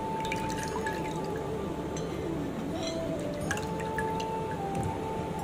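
Raw milk dripping and trickling as a small Laddu Gopal idol is dipped for a bath, steady soft liquid drips and faint clinks close by, with a continuous background hum and no talking.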